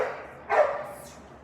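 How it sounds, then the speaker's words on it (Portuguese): A single dog bark rings out once, fairly close and moderately loud, over a quiet indoor background with no one talking. "O cachorro tá latindo, eu não gosto."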